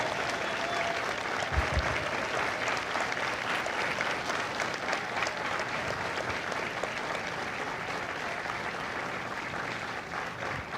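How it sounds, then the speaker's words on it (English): A large audience applauds at a Marine Corps recruit graduation for Lima Company at MCRD San Diego. The clapping is dense and steady and keeps going without pause for about ten seconds. "a round of applause for their dedicated service to Corps and country."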